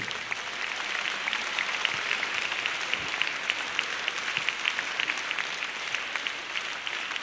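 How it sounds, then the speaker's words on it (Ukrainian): Concert audience applauding steadily for a singer, a sustained wash of many hands clapping at moderate distance, even in level throughout with no voices over it. "Ще раз великі-великі оплески,"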